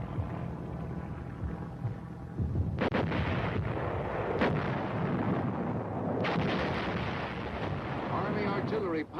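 Army artillery pounds away during the Korean War, with several heavy booming blasts spaced a few seconds apart over a continuous rumbling, noisy battlefield backdrop.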